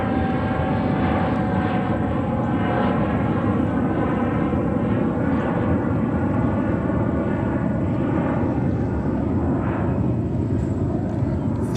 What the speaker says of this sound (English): That's a CRJ 900, what you hear right now.